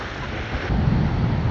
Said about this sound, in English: I'm just walking in the fucking rain now.